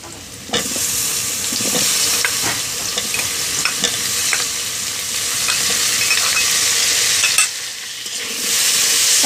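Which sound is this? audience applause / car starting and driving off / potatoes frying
potatoes frying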